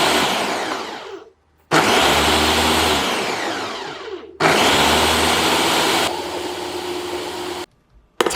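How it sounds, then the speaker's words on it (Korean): A blender whirs loudly, pureeing steamed broccoli, tomato and cabbage with warm water or vegetable stock into soup, running in three long bursts separated by short pauses, each winding down in pitch as the mixture smooths. "찐 브로콜리, 찐 토마토, 찐 양배추, 따뜻한 물이나 채소 육수 넣어 잘 갈아주세요"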